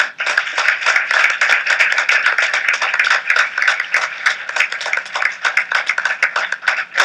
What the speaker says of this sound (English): And a round of applause to our great student debaters.